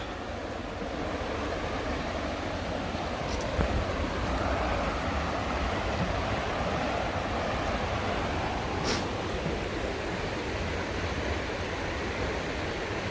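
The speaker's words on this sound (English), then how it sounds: "Nice river here." Continuous rushing water of a river at Ben Burton Park in Athens, Georgia, a steady broadband wash with no talk.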